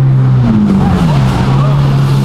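A Ferrari 458 sports car on a city street gives a loud, steady engine drone whose pitch dips and then settles, close by, with faint voices underneath.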